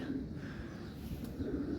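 Soft, low pigeon cooing repeats a few times at close range over a quiet background hum.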